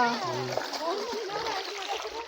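People wading into a lake, water splashing and sloshing around their legs in short bursts while voices talk over it.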